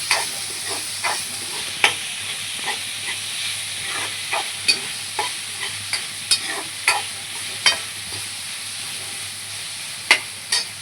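Onion, tomato and peas fry in a pan while a spoon stirs them, its regular scraping clicks sounding over a constant close sizzle with no voices.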